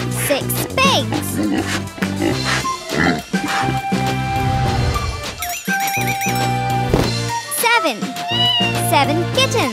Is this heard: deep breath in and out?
no